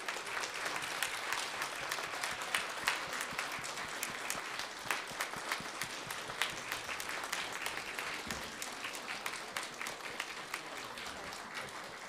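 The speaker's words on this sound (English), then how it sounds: "let's give them a round of applause" A congregation at a worship service applauds Special Olympic athletes wearing their medals, dense, even clapping that holds steady and alone for about twelve seconds.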